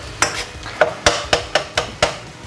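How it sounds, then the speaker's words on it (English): Beef mince for a Thai basil stir-fry browning in a pan on full heat, with about eight sharp, evenly spaced scrapes or taps of a utensil over a low background sizzle, close and clear. "so we're still up on full heat. Okay, so the mince is basically browned"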